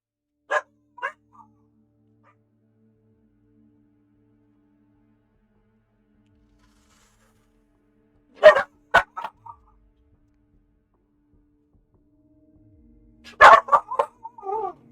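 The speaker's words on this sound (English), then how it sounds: "There was a dog barking outside and my dogs were reacting to that." Indoor dogs bark in short, sharp bursts separated by long silences: two quick barks at the start, a cluster in the middle and another flurry near the end, close and loud.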